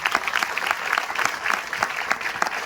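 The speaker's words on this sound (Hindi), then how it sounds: "उनके लिए एक बार जोरदार ताली चाहूंगा मैं" Audience applause at a motivational program in Bilaspur, steady dense clapping from a crowd heard alone at moderate loudness.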